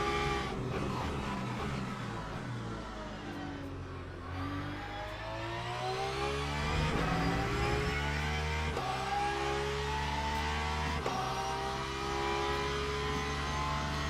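A Lamborghini race car engine in the Le Mans Ultimate racing sim, revving up and down through gear changes with a steady mid-pitched roar that climbs and drops repeatedly over a long stretch, loud and close.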